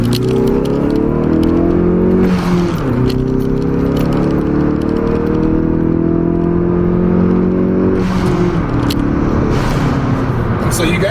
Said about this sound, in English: I'll try to do a pull from first gear and all the way through third, just so you guys can hear what the blow-off valve sounds like on the inside